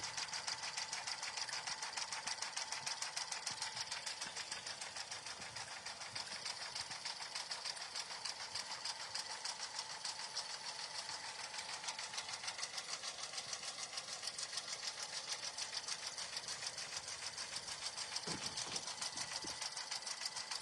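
A sewing machine stitching a fabric notebook cover runs in a steady, fast, even needle rhythm throughout, moderately quiet and uninterrupted, with a few faint low knocks near the end.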